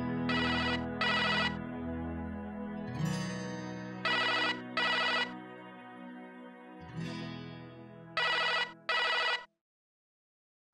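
An electronic phone ringtone plays in repeated bursts over a sustained musical tone, loud and clear, then cuts off abruptly near the end.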